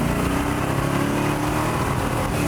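A high-powered Mercury car engine roars steadily at about a quarter throttle, a loud, dense, continuous rumble heard up close without talk.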